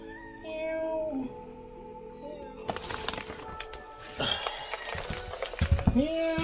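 Several cats meow on a sailing boat in Greece, with repeated close, rising meows over background rustling, bumps and footsteps.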